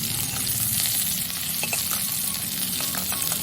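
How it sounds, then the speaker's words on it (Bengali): Bele fish fries in hot mustard oil in a kadai, giving a steady, close crackling sizzle throughout with occasional sharper pops, and no one speaks. "বাকি মাছ দুটো একইভাবে ভেজে নেব"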